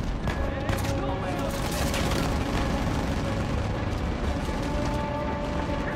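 Rapid blasts and rumbling explosions from an RPG rocket launcher in a forest-set video game, loud and continuous over a crackling roar, with a voice talking over them.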